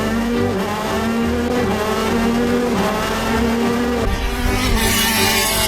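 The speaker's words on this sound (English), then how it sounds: "in this 50 horsepower KZ gearbox car" A 50 horsepower KZ gearbox racing kart drives at Daytona Milton Keynes, its engine buzzing loud and close as it shifts through gears, with road and tyre noise under the steady high-revving drone.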